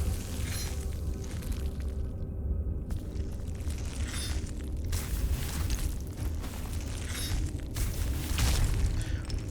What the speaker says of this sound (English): Right, bombs.